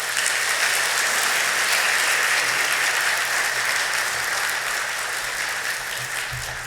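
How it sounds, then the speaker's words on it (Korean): A church congregation at a Sunday service applauds in a dense, sustained clapping that fills the room, fading slightly toward the end. "나오실 때 박수로 마주해 주시면 감사하겠습니다"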